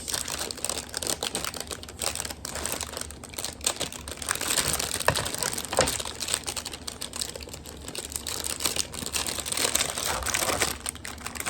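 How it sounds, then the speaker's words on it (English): Plastic packaging from an Amazon haul crinkles and rustles in close, irregular bursts while items are unboxed, with busy crackling and no talk over it. "Sorry about the crinkling."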